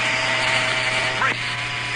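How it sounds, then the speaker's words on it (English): A new Schick 3-speed electric razor hums steadily and continuously at close range, with a brief shift partway through as the speed changes; no one talks over it. "That's the sound of a new Schick 3-speed razor."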